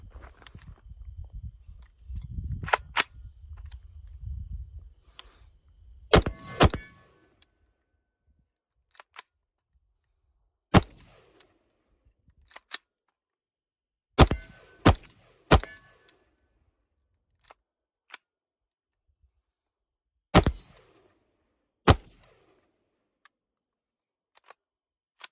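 Rifle shots at an outdoor range, sharp isolated cracks spaced seconds apart after a muffled rumble, with the bolt locking back on an empty magazine during reliability testing.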